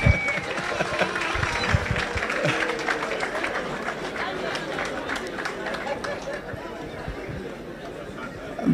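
Audience at a church gathering applauding pastors, sustained clapping mixed with crowd chatter and voices, fairly loud and steady before tapering slightly.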